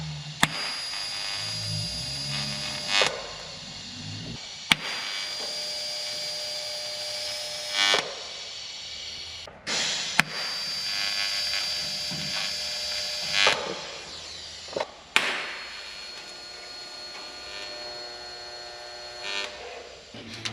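Sheet metal firewall piece being tack welded on a 1930 Dodge truck, with several short welding bursts separated by pauses, each ending in a sharp click, close and fairly quiet.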